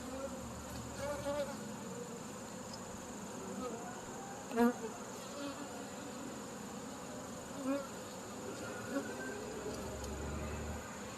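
Angry honeybees buzz around a hive previously harassed by skunks, a constant soft droning swarm with individual bees zipping close past at moments, faint and steady throughout.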